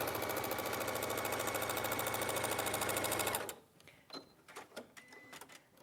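A sewing machine runs a steady, fast stitch across a quilt top for about three seconds and then stops, followed by quiet fabric handling and small clicks.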